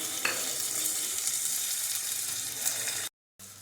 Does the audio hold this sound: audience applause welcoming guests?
no